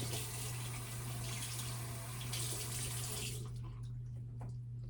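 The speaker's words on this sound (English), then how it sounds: "I just left the water running by accident, but for like 1 second." Water runs steadily from a tap into a sink, a loud continuous rushing hiss with a low hum underneath, cutting off abruptly near the end and leaving quiet room tone.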